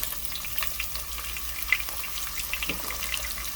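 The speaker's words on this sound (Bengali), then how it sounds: "এই পেঁয়াজটা একটু নাড়াচাড়া করে যে অনেক বেশি ভাজা হওয়া লাগবে তা কিন্তু না" Chopped onion frying in mustard oil in a pan for a beef dish, a steady close sizzle with scattered crackles and brief stirring scrapes, no voices.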